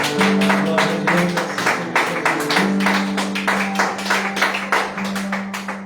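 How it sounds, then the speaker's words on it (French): A church congregation applauds together, dense rhythmic clapping filling the room continuously, with a sustained organ or keyboard tone underneath and a few voices faintly mixed in. "applaudissons le roi des rois"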